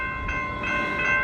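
A metro train rolls past at a road crossing, a loud, continuous rumble nearby with a steady tonal whine from the cars and no talking.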